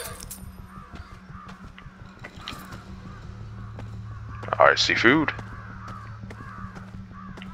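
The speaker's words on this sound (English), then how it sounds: "Get out of here, crows." Crows caw in the video game Ghostwire: Tokyo, a cluster of loud, harsh calls rising briefly above steady background hum while someone talks in between.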